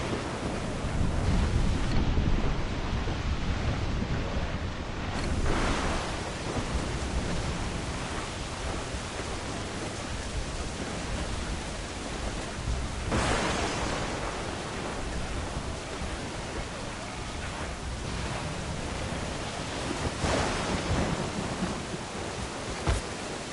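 A violent storm at sea in the Assassin's Creed IV: Black Flag video game, with a dense, continuous roar of wind, rain and crashing waves plus occasional heavier surges, loud and steady throughout with no voices.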